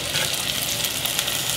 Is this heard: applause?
no